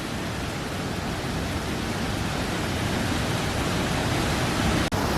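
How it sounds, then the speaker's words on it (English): Rushing river water pours continuously beside the salmon steps at Valldal, Norway, a built structure that helps salmon leap upstream; the dense, loud roar fills the whole stretch without a break. "I hope you can hear me over the run of the water behind me."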